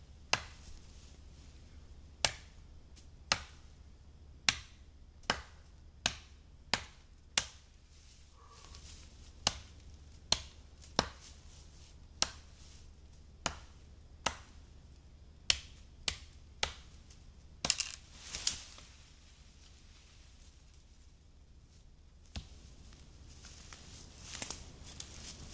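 Bowie knife chopping into pine wood, a long series of sharp, dry chops landing at irregular intervals, close and crisp against a quiet background, with a short cluster of scraping knocks near the end.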